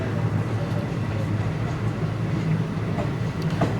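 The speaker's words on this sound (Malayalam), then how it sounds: "അപ്പോൾ വണ്ടി പതുക്കെ നാഗർകോവിൽ റൂട്ടിലേക്ക് കയറുകയാണ്." A train rolls slowly onto the Nagercoil line out of Thiruvananthapuram, heard as a steady low rumble and hum with faint wheel and rail noise, fairly close and without speech.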